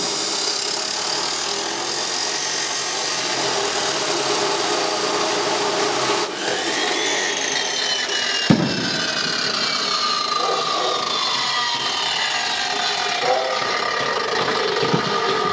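A Hitachi metal cut-off saw runs and cuts into material with a loud, steady, harsh grinding whine. The pitch sweeps and shifts as the blade bites, with a brief knock partway through.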